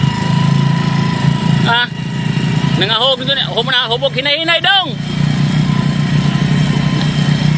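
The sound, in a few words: motorcycle engine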